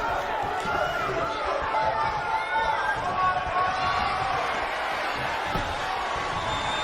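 A capacity wrestling crowd cheers steadily throughout, a dense roar of many voices and chatter at an even level with no breaks.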